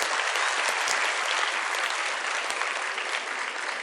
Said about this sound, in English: Please give them a big round of applause to them.